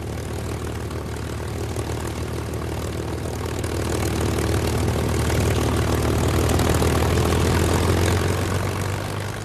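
A P-51 Mustang fighter's propeller engine drones steadily and loudly, swelling a little stronger about halfway through, with no voices.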